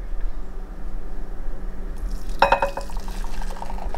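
Browned butter being poured from a pan into a heat-resistant Pyrex glass bowl, a short run of liquid splashing and clinking against glass after a quiet stretch, then continuing faint pouring and handling noises.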